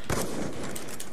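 Gunfire rattles out in an online shooter sniper-clan match, a short loud burst of close shots packed into about a second.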